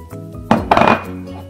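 A utensil clatters and scrapes against a bowl while banana fritter batter is mixed, giving two or three sharp, close clinks followed by a brief rattle.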